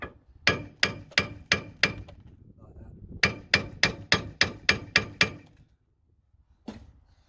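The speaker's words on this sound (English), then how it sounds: "Sometimes it does also benefit you to give it a bit of a tap, just to break off any corrosion." Hammer taps on the corroded rear brake parts of a 2005 Mk5 VW Golf GTI, two bursts of about five and ten sharp, evenly spaced metallic strikes, close and loud, with a single softer knock at the end.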